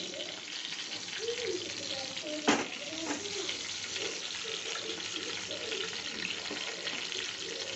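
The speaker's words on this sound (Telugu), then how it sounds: "ఆవాలు, జీలకర్ర వేసుకుందాం. ఆయిల్ హీట్ అయింది." Mustard seeds and cumin hit hot oil and fry with a soft, continuous crackle, close but fairly quiet, broken by one sharp clatter midway, with faint background murmur throughout.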